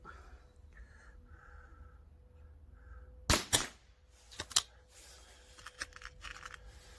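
Several shots from a TH78D Marksman air rifle firing pellets at about 10 meters: a close sharp double crack, then a few more spaced snaps and clicks at irregular intervals.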